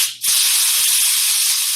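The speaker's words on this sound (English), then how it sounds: "if I spray some air on it" A can of compressed air sprays onto a Raspberry Pi hat, a loud, steady hiss that begins abruptly after a brief pause and continues unbroken to the end.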